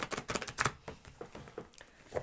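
A tarot card deck is shuffled close by, giving quiet, rapid riffling bursts and soft papery clicks in an irregular rhythm, with no talk.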